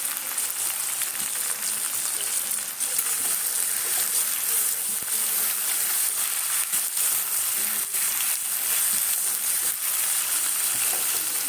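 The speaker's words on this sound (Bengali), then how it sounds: "দেখো পেঁয়াজটাকে ভাজবো, যেমন বেরেস্তা হয় ওইভাবেই ভাজবো।" Onions fry in oil until golden and crisp for a chicken curry, a loud, continuous crackling sizzle with faint stirring that runs unbroken for over ten seconds, with no talking.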